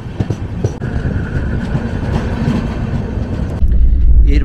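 The 20506 Rajdhani Express rumbles loudly into Harmuti Junction on a wet, rainy day, a steady heavy roar of wheels and carriages with a deeper surge near the end.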